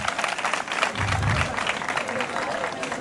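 Audience applause at a school quiz-style competition event, a dense, steady wash of clapping with crowd noise that holds throughout at moderate volume.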